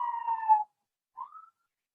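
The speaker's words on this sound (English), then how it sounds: "there's a siren in the background" A siren wails at a distance behind a committee work session. It gives one drawn-out tone, falls silent, then a short rising note follows, heard alone.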